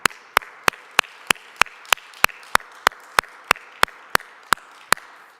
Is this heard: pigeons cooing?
no